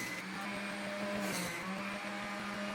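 An electric juicer runs steadily with a constant motor hum and whirring spin as fruit is processed, close and fairly loud with no pauses.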